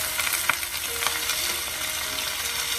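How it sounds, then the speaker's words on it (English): Spinach sizzles in a hot pan as it is stir-fried, with loud continuous frying and a few sharp stirring scrapes and clatters near the start and middle, and no voices. "stir fry them for a couple of seconds before transferring them to the blender"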